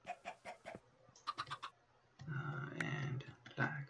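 Chicken clucks in Minecraft, a series of short clipped calls in quick bursts, followed by a louder stretch of game noise, with a voice faintly mixed in.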